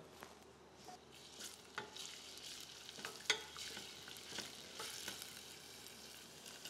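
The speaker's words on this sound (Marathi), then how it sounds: "त्यामध्ये बारीक चिरलेलं लसूण, आलं हे छान परतून घ्यायचं" Finely chopped garlic and ginger sautéing in oil for a mixed vegetable pulao, giving a steady moderate sizzle with scattered stirring scrapes and small pops throughout, no talking.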